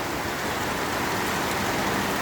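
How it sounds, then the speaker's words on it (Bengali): Heavy rain pours down steadily in Barishal, a dense, continuous hiss of drops striking surfaces close by, with no voices present. "বরিশালে প্রচণ্ড বৃষ্টি হচ্ছে।"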